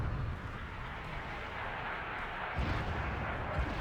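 Continuous rumble of mortar fire and distant artillery in the real-time strategy game Wargame Red Dragon, a dense low booming bed with a fresh heavier thump near the end, steady and moderately loud throughout.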